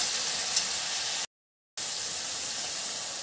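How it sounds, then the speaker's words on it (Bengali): Water poured into a pan of fried spice masala with turmeric and chili powder raises a loud, steady sizzle and hiss, broken by a short silent gap before the hiss resumes. "জল দিয়ে দিচ্ছি"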